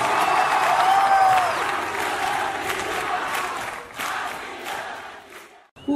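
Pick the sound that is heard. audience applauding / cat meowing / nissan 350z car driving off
audience applauding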